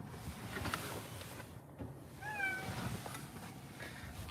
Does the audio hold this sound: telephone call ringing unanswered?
no